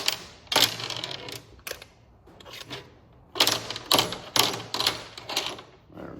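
Metal upper housing bolts clink and rattle as they are handled and set down during a Suzuki Samurai transmission rebuild, a close run of sharp irregular taps and clatters with brief quiet gaps.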